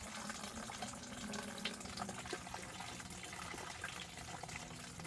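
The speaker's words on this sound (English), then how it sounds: "pour the water in." Water is poured into a heated poultry fount, a steady faint splashing and gushing fill that runs continuously without talk.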